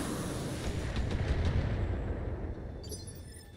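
Mech weapons firing in the Battletech video game: heavy, booming explosive blasts rumble continuously and then fade, with a brief high metallic flicker at the close.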